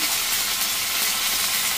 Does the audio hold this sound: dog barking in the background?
no